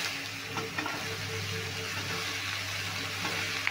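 Sliced bottle gourd drops into hot oil with panch phoron-style spices, giving a steady close sizzle and light frying crackle that carries on evenly with no talk.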